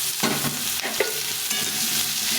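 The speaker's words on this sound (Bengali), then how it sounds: "নতুন আলু দুখণ্ড করে কেটে নিয়েছি ছোটো ছোটো আলু এটা ভেজে নেব" Small new potatoes, cut in half, fry in a pan with a close, steady sizzle broken by a few scraping stirs of a utensil.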